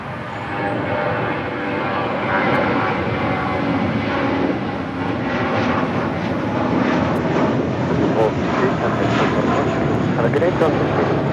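A JetBlue Airbus A320 takes off down runway 25 right at Los Angeles International Airport, giving a continuous loud jet roar that builds slightly as it rolls. Someone talks over the engine noise.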